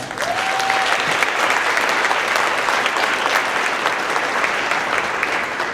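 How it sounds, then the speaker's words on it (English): Company celebration audience gives steady, full applause in honor of a mobile mammography service, a thick even roar of many hands clapping from start to finish. "let's give a quick round of applause for that"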